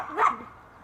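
A single short dog bark or yip, close and fairly soft, in a family backyard setting.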